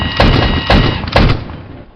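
Warship deck gun in the Stormworks video game fires three heavy booming shots at even intervals, each a sharp thump followed by a short rumbling tail that fades out at the end.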